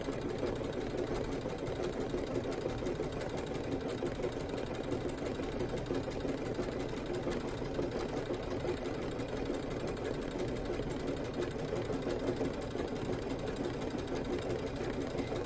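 A Luminaire embroidery sewing machine couches yarn onto fabric, giving a steady, continuous mechanical whir and rapid needle chatter that runs evenly throughout with no pauses.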